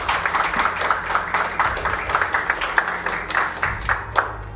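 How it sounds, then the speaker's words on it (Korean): Audience at a Korean information security day ceremony claps warmly for a presidential commendation award winner, a dense patter of many hands, steady and moderately loud for several seconds. "여러분 따뜻한 박수로 함께 축하해 주시면 감사드리겠습니다."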